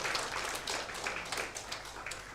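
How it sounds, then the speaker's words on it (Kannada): An audience at a Kannada book launch claps steadily, a soft, fairly distant spread of applause from many hands with no speech over it. "ಇವರಿಬ್ಬರಿಗೂ ನಿಮ್ಮ ಜೋರು ಚಪ್ಪಾಳೆ ಬರಲಿ ಅಂತ ಕೇಳ್ಕೊಳ್ತಾ ಇದ್ದೀನಿ"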